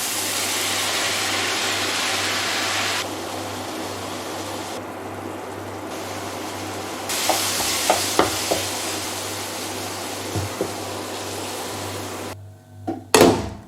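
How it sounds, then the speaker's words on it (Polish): Continuous loud sizzling of onions and mushrooms frying in a pan, with occasional clinks of a utensil stirring, ending in a few louder knocks. "Jak ona się ładnie przesmaży, dodaj pieczary."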